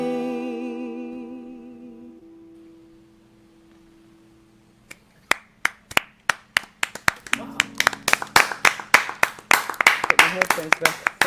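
A small audience claps after a folk song ends, the last sung note fading first, then a run of sharp, separate hand claps that thickens toward the end, close and fairly loud.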